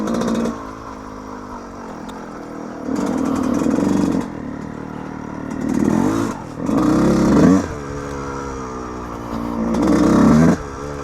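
A Yamaha YZ125 two-stroke dirt bike rides a local trail, its engine buzzing and rising in repeated throttle surges over several seconds, with rattling and clatter between revs.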